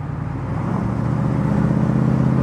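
A 1970 Dodge Challenger R/T convertible with its Magnum 440 V8 cruises down a road, its deep engine rumble steady, loud and close, with no talking.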